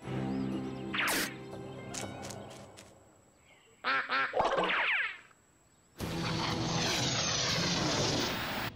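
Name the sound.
duck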